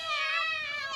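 A cartoon character in the Shinchan series gives a high, wavering cat-like cry, one continuous mewling wail, fairly close and alone, with a voice imitating a cat.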